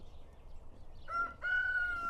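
A rooster crows once among a flock of sponsored roosters, a faint nearby cock-a-doodle-doo rising then holding a long tonal note over quiet ambient murmur.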